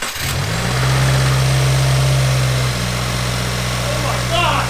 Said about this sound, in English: The inaugural start with the new Cobb intake.